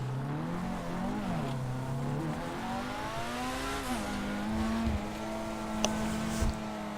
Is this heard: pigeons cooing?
no